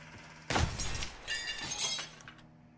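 Glass shot out in a video game breaks with a sudden sharp crash, followed by a spray of tinkling shards and a second clattering wave of falling pieces that trails off into quiet, fairly close and clear.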